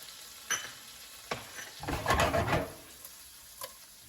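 Breakfast of pasta and egg frying in a pan with tomato, salt, pepper and basil: soft sizzling with a few quick stirring scrapes and clicks, building to a brief louder burst of frying near the middle.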